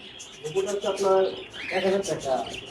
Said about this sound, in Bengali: এখানে দেখুন বড় ঘুঘু দেখা যাচ্ছে অস্ট্রেলিয়ান বড় ঘুঘু